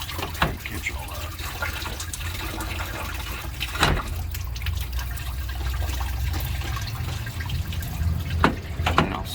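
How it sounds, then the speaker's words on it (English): Engine fluid drains steadily from a 5.4L 3-valve V8 being pulled out of a 2005 Ford F150 into a drain pan, a continuous trickling and splashing with occasional louder drips and clanks. "And I'll set it out here over a drain pan so it can leak out."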